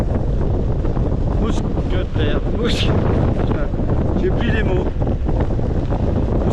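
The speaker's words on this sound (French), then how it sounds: "comme le vent est puissant, ça soulève le sable et la terre et je prends tout à l'intérieur" Strong gusting desert storm wind in Argentina buffets the microphone with a roaring rush, occasional gritty spatters of sand and earth against tent fabric, and a voice speaking briefly underneath.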